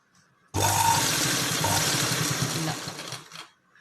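A sewing machine runs a top stitch in one loud, continuous burst of fast mechanical whirring that starts abruptly and fades after about three seconds.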